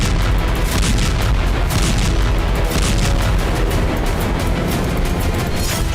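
Israeli airstrikes pound Houthi targets in Yemen, a dense unbroken roar of booming blasts and gunfire-like cracks, loud throughout with no speech.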